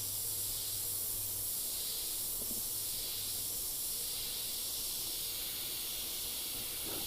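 Steady airbrush hiss spraying tan skin-tone paint, a continuous soft airy spray that gently swells and eases, with no talking.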